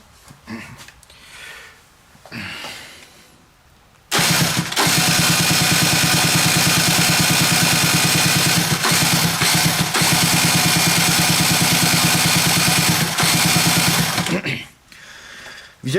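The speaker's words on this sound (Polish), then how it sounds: "ten silnik odpala i normalnie jeździ" A small two-stroke Aprilia RS 50 engine with a weak spark coughs to life and then buzzes loudly and steadily at a fast rattling idle before cutting out near the end.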